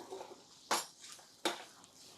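Coconut rice being stirred in a pot, with two distinct metallic clinks of a spoon against the pot, about a second apart, over faint soft scraping.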